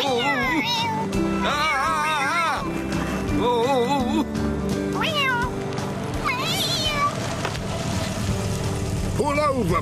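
Repeated cat meows with wavering pitch come over background music and other voices; the cries sound high and drawn out, several in a row.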